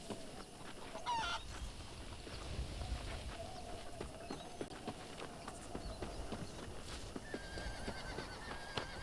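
Horses at a farm settlement in the video game Red Dead Redemption, heard as clip-clopping hooves and an occasional whinny amid geese-like honks and chickens, a busy animal-filled scene at moderate distance.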